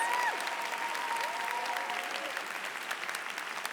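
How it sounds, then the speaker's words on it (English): An audience at an MSW induction ceremony applauds the students' families, a full, even roar of clapping hands that holds steady from start to finish with a faint whistle near the start. "we're going to give you guys a round of applause"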